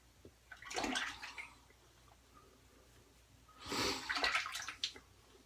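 Water splashes onto a face to rinse off shaving lather during a wet shave, two close bursts of splashing and dripping about three seconds apart, with quiet breathing between.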